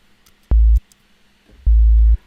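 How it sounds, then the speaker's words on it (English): Two short, low synthesized sine-wave notes, a low A, sound one after the other, clean and steady, with near silence between them. "for this we're going to use a sine wave"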